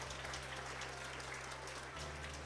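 A graduation ceremony audience gives a soft, distant round of applause for a graduate who is an Olympic table tennis candidate. The clapping is a faint, steady patter over a low electrical hum and lasts a couple of seconds.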